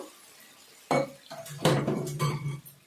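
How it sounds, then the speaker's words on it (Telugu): Puffed rice and coconut sweet with melted jaggery syrup being stirred in a pan, a spoon scraping and clinking against metal in a few close, uneven strokes, no voices. "ఇట్లా కలుపుకుంటూ ఉండాలి"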